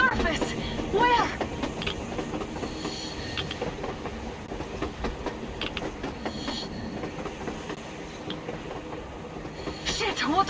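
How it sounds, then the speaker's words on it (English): A train runs on the surface in the video game Metro Exodus, with faint rhythmic clatter of wheels on rails and occasional metallic squeals, under mixed background noise and game sound. "A damn train on the surface!"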